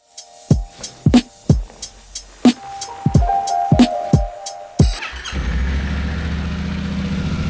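A 2023 Yamaha Tenere 700 motorcycle: a run of sharp, separate clicks and knocks comes first, then the engine catches and settles into a close, steady low rumble.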